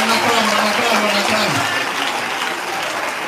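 An audience at a religious testimony gathering applauds, a dense, steady wash of clapping that holds loud throughout and thins slightly toward the end.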